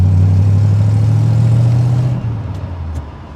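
A 1969 Chevrolet Corvette coupe with a 350 V8 heard from the passenger seat, its engine droning loud and steady as it pulls hard through a gear, then dropping off briefly at a shift before picking up again.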